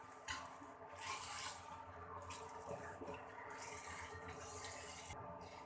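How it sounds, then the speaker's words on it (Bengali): Water poured from a cup into a cauliflower and potato curry in a pot, a faint, continuous watery pour and splash lasting several seconds. "এবং দিয়ে দিব আরো 1 কাপ জল।"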